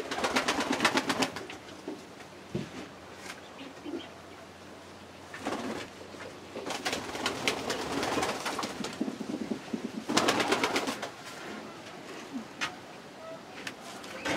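Pigeons coo inside a dovecote in a rural village, the soft repeated calls close and layered over steady background noise, with people talking quietly at times.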